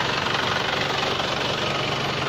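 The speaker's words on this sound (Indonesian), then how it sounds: "Suara masih kering. Ini adalah menandakan mesin mobil ini masih bagus" A first-generation Isuzu Panther Kapsul engine idles with a steady, dry, even chatter, running close and loud without pause.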